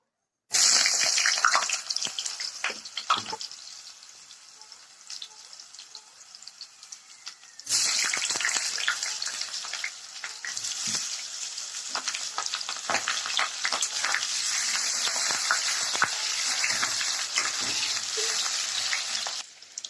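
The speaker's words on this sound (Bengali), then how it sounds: "গরম হয়ে গেছে, এখন আমি আলু কেটে রাখা আলু দিয়ে দেবো।" Cut potatoes are dropped into hot oil and fry with a loud, dense sizzle that starts abruptly, eases, then flares up again and keeps crackling steadily at close range, with occasional stirring.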